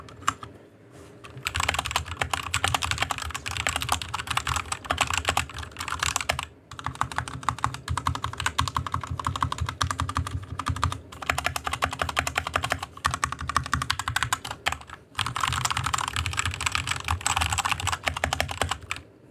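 Rapid typing on a Royal Kludge RK61 compact mechanical keyboard with linear switches, a dense close-up patter of clacky keystrokes in bursts with brief pauses, no talking.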